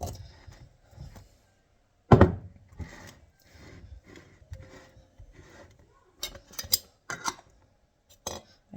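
Glass canning jars of leftover soup get their rims wiped and reused lug lids set on, giving soft rubbing and rasping with sharp metal-on-glass clicks and clinks, close up and uneven, with no talking.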